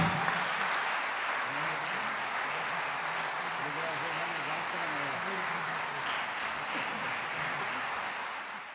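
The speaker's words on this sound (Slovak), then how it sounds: "váš potlesk patrí solistom, vojenskej hudbe, dirigentovi, ale všetkým vám." An audience applauds at a concert with soloists, a military band and a conductor, a steady, even wash of clapping that fills the room and fades slightly at the end, with a voice speaking over it.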